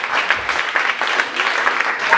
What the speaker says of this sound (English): warm round of applause for both Chip Pope and Our Romance